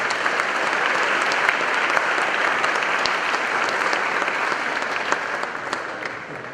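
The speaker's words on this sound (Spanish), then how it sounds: "Fuerte el aplauso para todas y todos ustedes." Sustained, even applause from a large university audience at a lecture, a broad wash of clapping heard from the room without speech.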